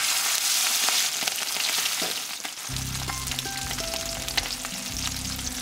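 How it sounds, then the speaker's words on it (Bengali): Small bajuri tangra fish frying in batches in a karai over medium heat, with a dense, steady sizzle and crackle of hot oil close by. A low rumbling hum joins partway through, and no one speaks. "এবারে মাঝারি আঁচে মাছগুলো ভাগে ভাগে ভেজে নিতে হবে।"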